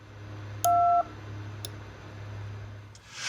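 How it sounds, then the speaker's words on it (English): Telephone DTMF dial tones for triggering relays: one short, loud dual-tone beep near the start, followed by a few faint clicks and quiet background hum. "when it hears a dial tone, it will trip one of the relays based on which dial tone it hears"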